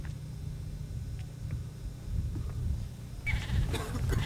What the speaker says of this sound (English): Chance encounter with some sheep.